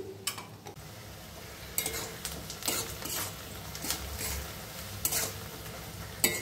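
Onions frying in a pan for mutton korma, a soft steady sizzle with scattered stirring scrapes and clicks of a utensil against the pan.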